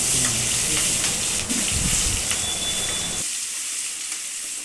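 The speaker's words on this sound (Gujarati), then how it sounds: "તેમાં જીરું એડ કરીશું. પછી લસણ અને મરચાંની પેસ્ટ એડ કરીશું." Cumin, garlic and chili paste hit hot oil in a pan with a loud, dense sizzle and some stirring scrapes, the frying noise dropping sharply near the end.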